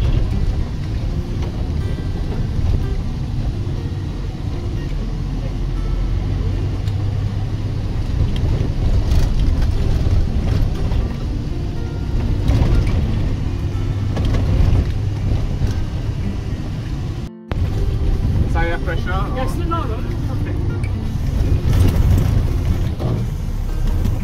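A Land Rover Defender drives on unpaved desert roads in Morocco. A steady, loud low engine rumble mixes with road noise and cabin rattles throughout, broken by one brief dropout.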